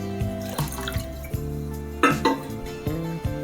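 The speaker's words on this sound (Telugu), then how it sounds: "ఇంకా వాటర్ యాడ్ చేసుకొని" Water being poured into a pot of jowar ambali on the stove, with a few short splashes and pot clinks spread through a quiet kitchen.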